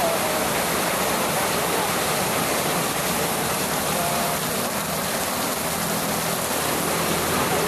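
Heavy rain pours down in a steady, dense roar, loud and unbroken from start to finish with no letup.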